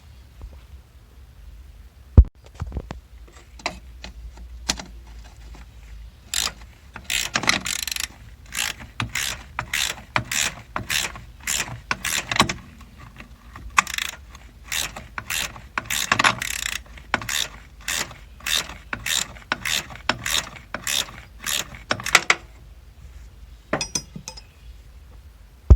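A 9/16 ratchet works off the brake booster nuts on a Fox Body Mustang, its pawl clicking in long, steady rapid bursts with short pauses, loud and close with no talking.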